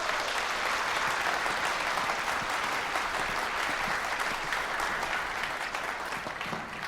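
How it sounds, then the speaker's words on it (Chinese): A lecture audience breaks into dense, steady applause to welcome a visiting professor, continuous and even throughout with no voices over it. "下面就让我们用掌声欢迎陆教授"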